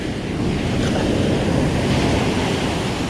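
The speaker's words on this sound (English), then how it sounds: "Right now the wave is really strong. This is probably like 8-footer waves" Strong ocean surf with waves around eight feet breaking on a fishing beach, a loud continuous roar of crashing water mixed with heavy wind buffeting the microphone, no voices.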